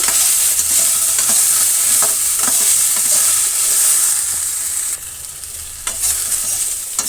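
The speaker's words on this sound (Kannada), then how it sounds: "ಈಗ ನಾವು ಚೆನ್ನಾಗಿ ಫ್ರೈ ಮಾಡ್ಕೋಬೇಕು" Continuous crackling sizzle of food frying in hot oil, loud and close, with occasional scraping stirs and a brief dip partway through.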